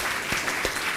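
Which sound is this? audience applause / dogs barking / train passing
audience applause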